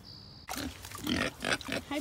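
Pigs on a farm in Maine give a run of close, loud grunts and snorts that begin abruptly after a short quiet hum, with a few overlapping bursts.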